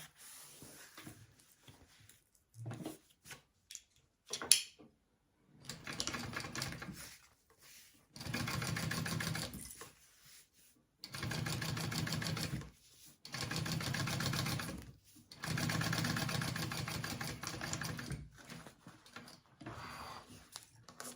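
A sewing machine top-stitches along the bottom piece of a wallet in several bursts of steady rapid needle chatter, each a few seconds long, separated by short pauses and small handling noises.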